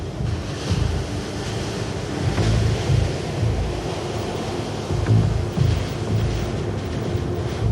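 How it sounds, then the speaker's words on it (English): Ocean waves breaking on a beach in rough weather, a loud rushing surf roar with repeated swells of crashing water, accompanied by strong wind buffeting the microphone. "During rougher weather, when the waves are bigger, plunging waves occur."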